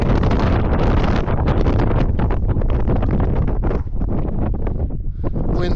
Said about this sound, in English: Wind's picking up a little.